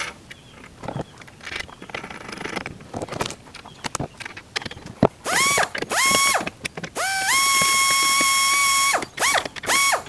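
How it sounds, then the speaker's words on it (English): A ratchet tightens 14 mm acorn nuts on an Open Road 4WD bed rack on a Jeep Gladiator, heard close up as bursts of rapid clicking followed by loud sustained whirring, mechanical tones that rise and hold. "So we'll go ahead and do that for all 3 of these and tighten it down."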